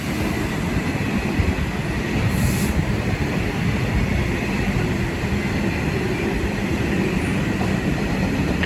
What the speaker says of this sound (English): this is the 12:30 TfL rail service from Heathrow Terminal 5 to London Paddington